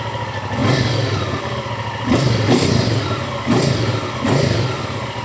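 2015 Hyosung ST7 700i motorcycle with only 2,500 km and in like-new condition runs nearby, its engine revved in several short rising bursts over a steady idle rumble, no voices.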